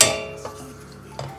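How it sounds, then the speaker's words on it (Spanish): A utensil stirs milk in a cooking pot, giving an initial clank followed by two light metallic taps against the pot's side, close by and fairly quiet. "Removemos"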